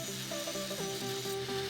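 Harsh, steady grinding as a pin protruding from the side plate of a motorcycle chain is ground down, a continuous abrasive whine with slight pitch shifts, loud and close.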